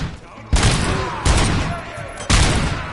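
Heavy gunfire in the video game RoboCop: Rogue City comes as three loud, sharp bursts about a second apart, each with a long rumbling tail, close and dominant.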